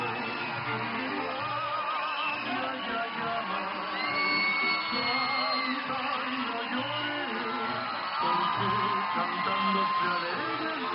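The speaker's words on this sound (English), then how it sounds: "Oscar Duarte gets the knockout and the win in front of a raucous crowd here in Parral" A raucous hometown crowd in Parral roars after a boxing knockout, with loud sustained whoops, yells and cheering throughout while a commentator talks over it.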